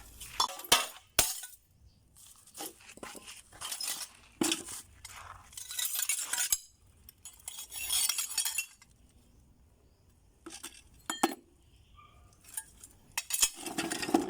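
Glass wine bottles are smashed into shards in a string of sharp cracks and clinks, with bright bursts of breaking glass scattered among tinkling fragments and short quiet gaps.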